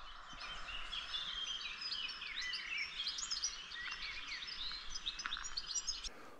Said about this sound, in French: J'ai rarement entendu autant d'oiseaux chanter le matin.